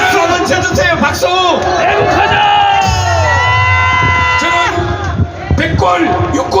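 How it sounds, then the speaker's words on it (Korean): A large crowd at a South Korean political rally cheers and applauds loudly. The noise comes in continuous bursts of shouts and clapping, mixed with a voice over a loudspeaker. "박수 한번 쳐주세요. 박수."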